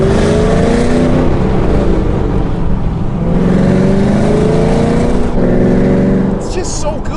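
A manual transmission car revs and downshifts, the engine pitch climbing and then dropping in repeated sweeps, loud and close from inside or beside the car, with a brief fade near the end.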